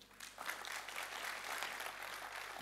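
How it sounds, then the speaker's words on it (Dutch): An audience at a photography talk gives warm applause, a soft, distant, continuous patter of many hands clapping over a faint low electrical hum. "Graag een warm applaus voor Athos Bure."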